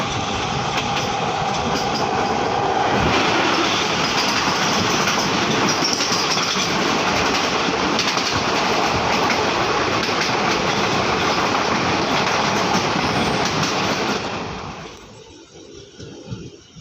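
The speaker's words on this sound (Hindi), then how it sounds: "दोस्तों अब हमारी ट्रेन पहुंच चुकी है औड़ीहार जंक्शन" Passenger train 15053 from Chhapra pulls into Aunrihar Junction with a steady, loud rumble and clattering wheels. The roar holds for most of the time, then drops away abruptly near the end as the train slows.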